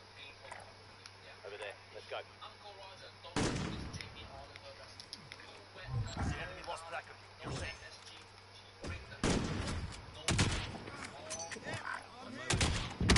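Gunfire in a PS4 shooter game, scattered loud shots and short bursts breaking out every few seconds over a quieter background, with people talking in between.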